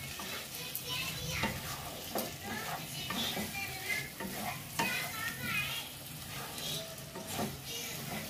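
Potatoes and pointed gourd stir-fried in an oily spice paste, a steady sizzle broken by repeated spatula scrapes and knocks against the pan, close and continuous throughout.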